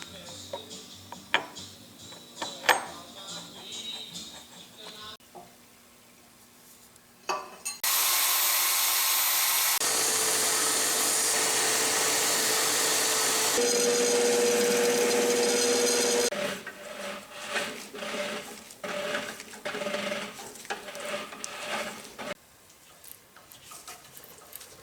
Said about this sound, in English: I'm boring out the holes on these side plates for the transmission frame